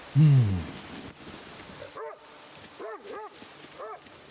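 A dog gives one loud bark, then a series of high, wavering whimpers and yips at a moderate distance, with faint background noise.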